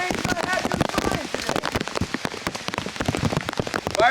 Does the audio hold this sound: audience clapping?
no